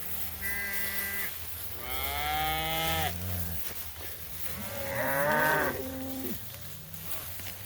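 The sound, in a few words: cattle mooing in a pasture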